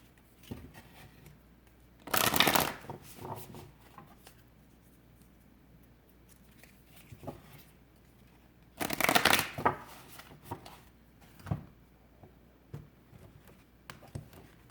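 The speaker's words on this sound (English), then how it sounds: "Let's shuffle the cards." Two bursts of tarot cards being riffled and shuffled, each lasting about a second, with quieter handling taps and shuffles between them.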